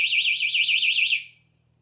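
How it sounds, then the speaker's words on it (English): A pulled-pin personal safety alarm from a handbag shrieks with a loud warbling electronic siren, wavering rapidly up and down, then cuts off abruptly after about a second. "And that alarm will go off,"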